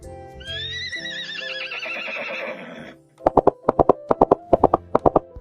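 A horse whinnies in a long, wavering call, then a quick run of rhythmic hoofbeats clip-clops close by.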